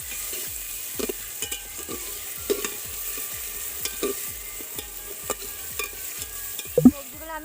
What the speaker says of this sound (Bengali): টমেটো, আর একটু ভাত, বিট। এইগুলো আমি হালকা ভেজে নেব।